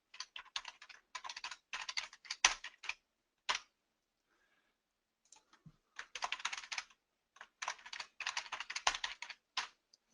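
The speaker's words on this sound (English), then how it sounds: "I can type in a password here" A password is typed on a computer keyboard in quick bursts of close, crisp key clicks separated by short pauses, quiet and without talk.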